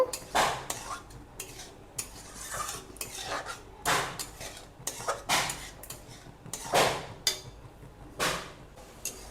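Cashews and raisins being stirred into a tomato and date chutney in a pan, with repeated clinks and scrapes of a metal spoon against the pan in an irregular rhythm, fairly quiet and close.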